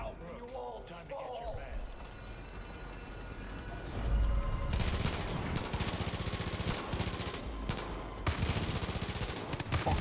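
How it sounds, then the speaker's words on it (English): Scorpion gunfire in the video game Far Cry 5 breaks into loud, sustained automatic bursts halfway through, following a quieter stretch where a voice is heard. "Killed him with a scorpion, that's how you do it."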